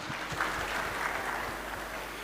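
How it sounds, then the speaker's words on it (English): A conference panel audience applauds in a steady, dense wash of clapping that holds evenly for a couple of seconds. "So if you can give a big round of applause for the Department of ITBT for"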